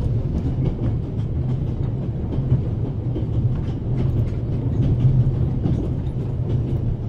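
A train rumbles steadily in The Raven video game, with a loud, continuous low roar and faint clickety-clack from the wheels, and no pauses throughout.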